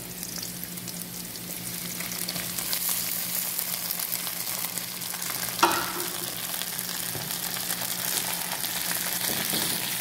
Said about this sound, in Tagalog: Isa-gisahin lang natin ng konti